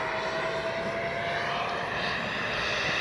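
Twin-engine Arrows RC MiG-29 64 mm ducted-fan jet model flying a morning sortie, a steady loud whine with a thin high tone held throughout, close and continuous, no talk.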